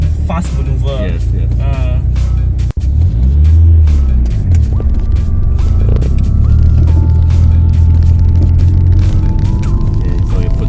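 Mitsubishi Lancer Evolution 5 driving in Sarawak, Malaysia, with a steady low engine drone that rises and falls as gears are shifted, heard from inside the car under ongoing conversation.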